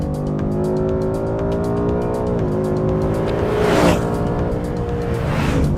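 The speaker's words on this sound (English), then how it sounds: "I love the sound of that engine" Ford Mustang GT naturally aspirated engine on a track, loud and continuous, pitch rising and dipping through gear changes, heard alone without any talking.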